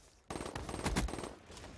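M8 rifle fire in a first-person shooter: a rapid close burst of sharp automatic shots that starts abruptly and lasts just over a second.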